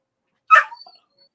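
One short, sharp dog bark, close and loud, trailing into a brief soft whine in an otherwise silent room.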